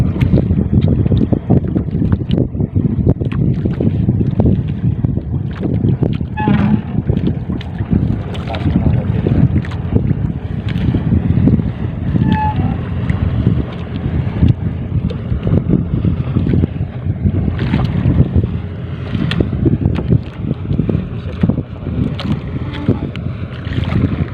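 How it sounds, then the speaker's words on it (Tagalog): Heavy wind buffets the microphone over a continuous low rumble of a passing motor tanker ship's engine nearby on the water. "Papalagpasin muna natin tong motor tanker ship."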